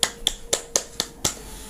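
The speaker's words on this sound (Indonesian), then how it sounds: "tepuk tangan" Six sharp, evenly spaced claps ring out close and alone, each a crisp isolated smack about a quarter second apart.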